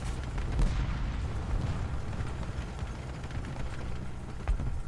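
A tank's ammo rack detonates in War Thunder with a dull, heavy boom, followed by a rumbling, crackling low roar that lingers for several seconds.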